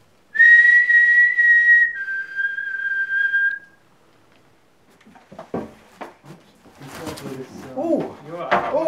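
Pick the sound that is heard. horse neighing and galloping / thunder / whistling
whistling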